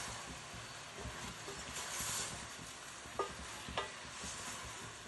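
Mushroom biryani masala fries quietly in a pan with garam masala and salt, a soft, continuous sizzle with two light scraping stirs near the end, no voices.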